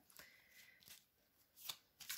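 Oracle cards are shuffled with a few soft papery riffles and flicks, close and quiet, in short bursts with pauses between.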